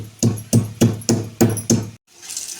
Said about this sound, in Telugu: ఇలా బాగా కచ్చాపచ్చగా దంచుకోవాలి